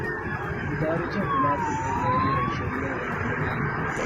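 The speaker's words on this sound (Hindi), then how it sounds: "एम्बुलेंस की सायरन की आवाज भी सुनी जा सकती है" A distant ambulance siren wails in an Iranian city, gliding down and back up in pitch, behind a busy rumble of traffic and murmuring voices.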